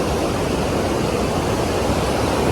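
A river at Tatopani in Nepal rushes steadily, a dense, constant roar of flowing water close by with no pauses.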